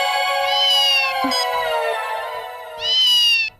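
A person mimics a cat with two loud, close, drawn-out meows separated by a short pause and faint clicks, with no other talking.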